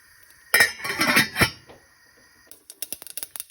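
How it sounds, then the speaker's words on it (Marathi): Mustard seeds dropped into a hot pan for a Goan ivy gourd and coconut bhaji, first a loud burst of crackling and rattling, then after a pause a run of sharp, scattered pops near the pan. "आनी हांव आतां मस्टर्ड सीड्स राय घालता"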